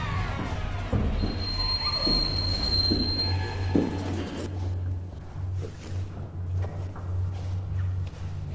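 A train passes in the video game Among the Sleep: a steady low rumble with squealing, metallic wheel tones and rattling, heard alone without speech.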